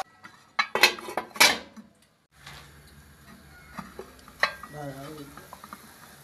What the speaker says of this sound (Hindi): उसको अच्छी तरह से मिक्स कर देंगे